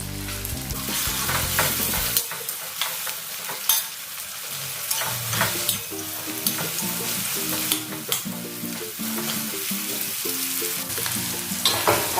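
Onion with a little salt frying and being stirred in a pan while making a fenugreek and pigeon pea bhaji, a steady close sizzle broken by scraping stirs throughout, with no talk.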